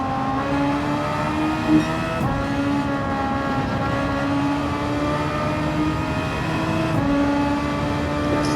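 A race car in Gran Turismo 7, a Super Formula machine lapping Suzuka, holds a loud, steady engine whine that climbs through the revs, with brief breaks where the gears change.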